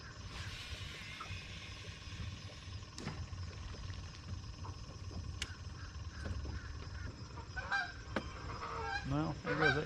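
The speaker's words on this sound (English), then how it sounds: "Bunch of Canadian geese" A flock of Canada geese honk repeatedly at a distance outdoors by a fishing spot, their calls growing busier and closer toward the end over a low background hum.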